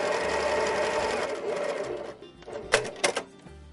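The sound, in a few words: sewing machine stitching fabric pieces together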